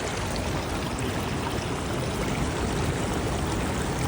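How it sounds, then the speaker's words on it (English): Maruia Falls, a small waterfall in a carved river canyon in New Zealand, pours with a constant, dense rushing roar that stays full and unbroken throughout, with no talking. "It's like a tiny Niagara Falls."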